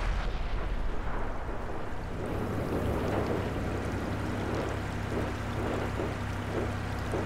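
A tank cannon fires in the World of Tanks video game on Xbox, a loud heavy boom amid dense, continuous battle rumble and noise, with no talk.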